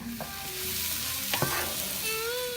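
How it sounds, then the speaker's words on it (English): Mushrooms and rosemary sauté in a pan, a close, steady sizzle with scraping stirs and a couple of sharp clinks against the pan. "we're gonna add our mushrooms, and then finally our rosemary"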